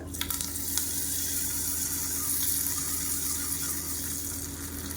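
Hot tempering of mustard seeds, urad dal, dried red chillies and curry leaves is poured into onion chutney, giving a loud, steady sizzle and crackle that fills the whole stretch with a few sharp pops near the start.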